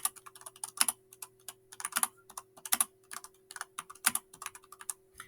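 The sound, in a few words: typing a report on a computer keyboard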